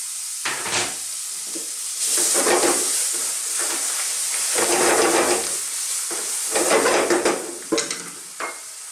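Sliced red onion hits hot oil in a pan of beef and mushroom curry, giving loud bursts of sizzling and stirring that swell and fade in waves, close by with no talk.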